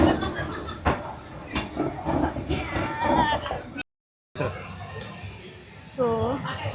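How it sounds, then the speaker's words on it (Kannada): A train rolls through Hanoi's Train Street, a narrow lane lined with cafés and onlookers, with a steady close rumble and rattle mixed with crowd chatter and voices, broken by a brief silent gap. "ಫೈನಲಿ ಆ್ಯಕ್ಚುಲಿ ಇವತ್ತು 2 ಟ್ರೈನ್ ಬಂದವು ಇಲ್ಲಿ ಬಂದು ಕೂತ್ಮೇಲೆ."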